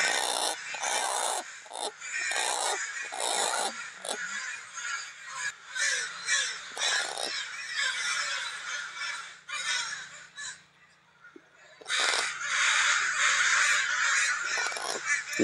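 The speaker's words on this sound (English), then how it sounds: "You should hurry up and kill that poor crow." A crow caws harshly and repeatedly during a backyard bird fight. The loud, close bursts come in quick runs, then broken, strained calls after a short lull.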